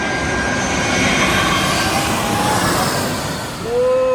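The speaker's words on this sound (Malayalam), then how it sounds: "ഇവിടെ നിന്നാൽ ഇങ്ങനെ ഫ്ലൈറ്റ് ഇങ്ങനെ താന്ന് പോണത് കാണാൻ പറ്റും" A low-flying airplane near an airport makes a loud, steady engine roar with a rising whine, continuous throughout and close by.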